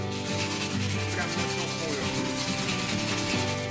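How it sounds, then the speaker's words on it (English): Dry sanding of epoxy primer on a car body repair with 120 grit sandpaper, a continuous close rasping rub with rapid back-and-forth strokes. "And dry sand with a 120 grit sandpaper."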